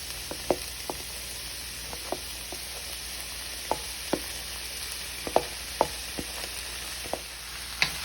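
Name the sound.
sauteing rice with mixed vegetables for chicken fried rice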